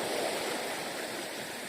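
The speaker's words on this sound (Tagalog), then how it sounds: "Maalon." Choppy sea waves at a fishing spot make a continuous, faint, rushing wash of water with no voices.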